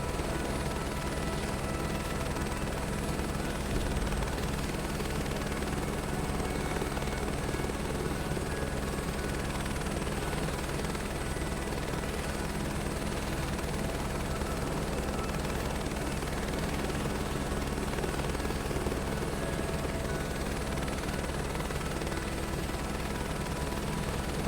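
Huey helicopter in Flight Simulator 2024 on a search and rescue flight near Rome, Italy, a loud, steady rotor and turbine roar that holds evenly throughout, with no speech over it.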